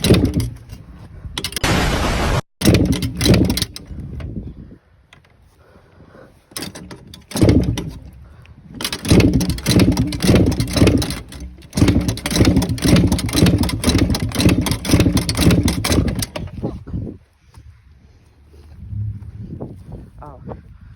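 A worn-out TC125 dirt bike is kicked over and its engine catches, sputtering into a steady, rapid, loud running rhythm for several seconds before cutting out, with someone talking nearby.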